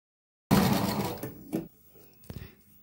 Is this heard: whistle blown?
no